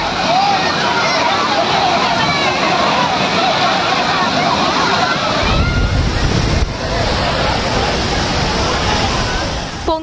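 Flash flood water roaring down Courtallam Old Falls and over the steps below: a loud, dense, continuous rush and slosh of churning water, with a voice heard over it.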